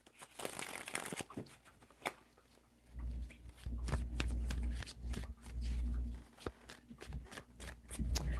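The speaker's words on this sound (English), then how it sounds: "Three shuffles." Tarot cards shuffle close by, first as a quick riffle of crisp flicks, then in three rhythmic shuffles with soft thumps and papery slaps, with no talk.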